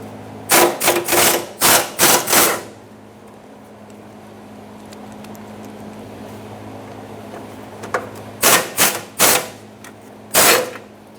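Bolts on the fuel tank shield of a 1995–2004 Toyota Tacoma are worked loose with a tool, giving two bursts of sharp, close rattling clacks separated by a quiet stretch with a steady hum.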